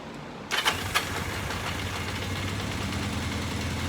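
A stock 1983 Kawasaki KZ750 Spectre motorcycle cranks briefly and catches within a second, then settles into a steady, close, even idle that continues to the end.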